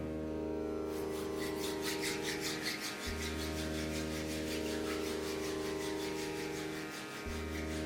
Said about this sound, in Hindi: अब दोनों हाथों की हथेलियों को आपस में रब करें।